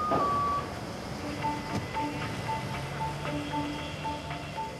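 A 40-foot lorry manoeuvring at Heathrow Airport gives a run of regular reversing beeps, evenly spaced and moderately distant, over a low background hum.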